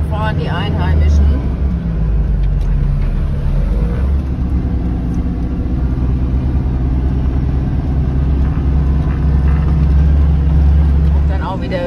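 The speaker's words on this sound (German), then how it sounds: "Man hört auch die Motorbremse ganz deutlich." A car descends a steep road in Oman under engine braking, giving a loud, steady low drone that holds a constant pitch throughout without pauses.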